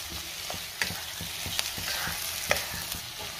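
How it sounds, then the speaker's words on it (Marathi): Prawns stir-fried in spicy masala for a dry kolambi fry over a high-to-medium flame: a steady oily sizzle with repeated sharp spatula scrapes and taps against the pan, close and alone. "मसाल्यामध्ये आपल्याला कोळंबी व्यवस्थित मिक्स करून घ्यायची आहे"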